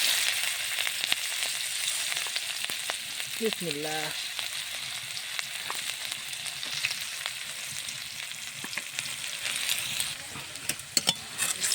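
Onions sizzle steadily in hot oil left over from frying fish, a continuous crackling hiss with occasional stirring taps and a brief spoken word near the start.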